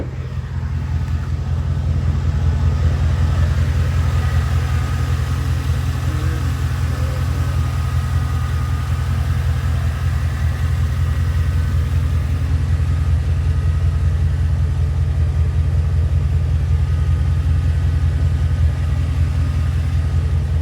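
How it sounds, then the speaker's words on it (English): A 2002 Chevy Z71 4x4 pickup idles, heard from underneath the truck: a steady, close, low engine rumble and exhaust drone that holds an even level throughout, with no speech. "I'll crawl underneath it with it running too, so you can hear underneath it."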